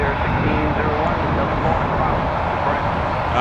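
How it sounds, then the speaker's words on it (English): An Airbus A300 at Toronto Pearson airport gives a steady, loud jet engine roar that holds evenly throughout without fading, with talk faintly underneath. "Airbus 300. Don't see those very often anymore."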